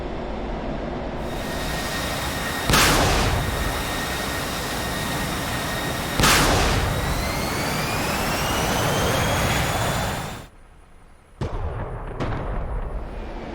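In the DCS video game, an F-16 fires Maverick missiles in a ripple launch under a constant jet engine drone: two loud whooshing launches a few seconds apart, then the roar drops out briefly and returns.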